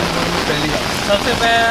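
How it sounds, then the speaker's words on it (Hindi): Heavy rain pours in a dense, continuous wash during a major flood near a swollen river in Bijapur, with a voice briefly heard over it. "वर्षा बहुत हो रही है।"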